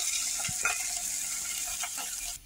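Crushed green chili, garlic and ginger fry in hot oil, giving a steady hiss of sizzling with a few soft scrapes of stirring, close and fairly quiet.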